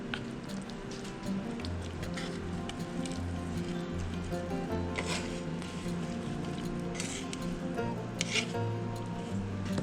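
Chili and mushrooms being stirred into a pot of beer chili, giving a steady wet squishing and faint scraping that runs throughout at close range with no talk.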